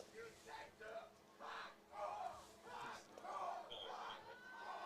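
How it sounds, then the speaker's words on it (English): Crowd at a high school football game between the Crismon Rattlers and San Tan Foothills, distant voices rising in repeated bursts of shouting and jeering, with faint talk mixed in. "there is a lot of upset fans here in the Santan Foothills crowd"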